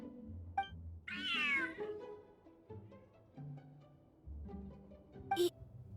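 A cat in Genshin Impact meows several times, one long rising-and-falling meow near the start and shorter mews later, close and clear over soft low background music.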